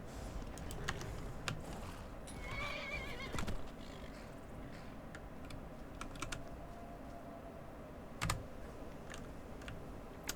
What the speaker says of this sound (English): Okay, Dairon, my first horse